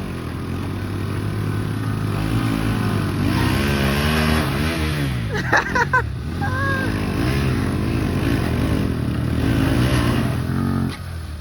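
NS 200 and Pulsar 150 motorcycles rev steadily in a rope tug-of-war contest, a loud continuous engine drone that climbs and falls in pitch, with brief shouts and voices mixed in around the middle.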